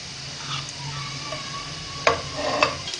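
Desi ghee heating in a pan for a tadka for a palak and chaulai saag, a soft low sizzle with a couple of faint clinks, close and brief.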